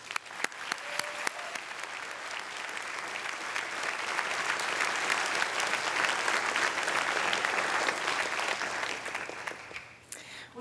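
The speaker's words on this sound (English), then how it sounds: "please join me in giving a big round of applause for OIST new graduates" Sustained applause from a graduation ceremony audience celebrating new graduates, a dense wash of many hands clapping for about ten seconds before fading at the end, heard from within the hall.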